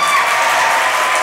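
Audience applause from a Malayalam comedy stage show, a steady dense wash of clapping that stays even and fairly loud throughout with no pauses.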